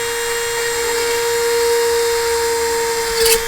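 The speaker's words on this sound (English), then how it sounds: "I'm going to drill one back here in the back." A power drill whines at a steady high pitch for a few seconds while drilling a hole in a crankbait fishing lure, with a brief burst of grinding near the end.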